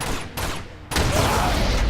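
In Uncharted 2: Among Thieves, a sudden explosion bursts out amid rattling gunfire, a sharp loud blast followed by crackling debris and continued noise.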